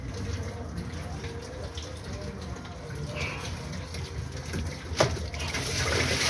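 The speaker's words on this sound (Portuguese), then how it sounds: "Aí agora nós vamos esgotar a água ali." Coolant drains from the engine water pipe of a Mercedes-Benz 1621 truck into a container beneath, a steady splashing trickle with a brief clank near the end. Someone talks over it.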